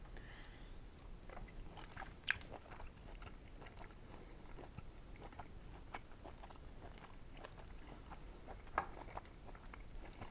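Quiet, close chewing of a bite of medium-rare grilled steak cooked on a Weber grill, soft irregular mouth sounds and faint clicks with no talking.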